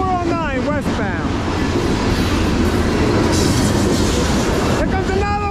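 A CSX freight train and an NS freight train with two BNSF locomotives pass each other, with a loud continuous rumble and rattle of rail cars, wavering horn-like tones near the start and end, and voices over the noise.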